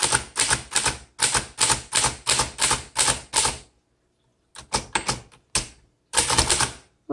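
A 1926 Underwood Four Bank typewriter clatters as its keys are struck in quick runs, bursts of sharp mechanical taps separated by short pauses, close and clear with no talking.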